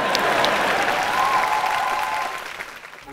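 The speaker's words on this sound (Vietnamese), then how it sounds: "vỗ tay gì vậy?" An audience bursts into applause at a lively show, dense clapping loud at first and then tapering off over about three seconds.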